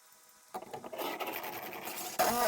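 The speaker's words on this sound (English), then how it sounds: "We're just going to screw our screws into the screw holes" Screws being driven into marked holes to attach a TV wall mount: a grinding, rasping drive of a few seconds after a quiet start, with a fresh scraping burst near the end.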